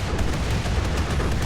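Spaceship guns firing a barrage in RimWorld, a dense continuous rumble of rapid booming shots rolling without pause, loud and sustained.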